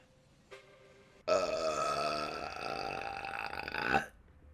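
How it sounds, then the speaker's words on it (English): A single long, loud burp rings out close up, lasting nearly three seconds with a steady, resonant tone that swells slightly before ending abruptly. "we're burping straight away"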